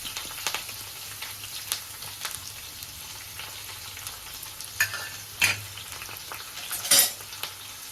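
Green chilies, onion and curry leaves frying in a pan, with a low steady sizzle broken by scattered stirring clicks and a few louder utensil clinks near the end, close up, with no talking.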